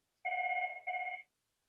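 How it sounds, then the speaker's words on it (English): Courtroom telephone ringing, two clear electronic rings, the first longer and the second shorter after a brief gap, clean and alone against a quiet room. "We're going to have her call in on the courtroom phone and put her on speaker."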